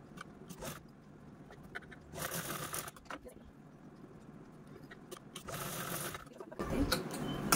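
A sewing machine stitches across a shopping bag made from reused cloth, running in several short bursts of rapid whirring with brief pauses between runs.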